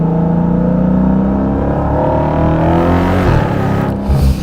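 Dodge Challenger Hellcat with its 717 hp engine running in manual mode with paddle shifters, a deep loud engine drone rising and falling in pitch as revs climb, heard from inside the cabin.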